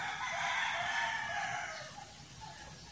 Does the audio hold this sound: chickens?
yes